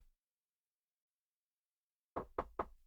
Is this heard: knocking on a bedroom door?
yes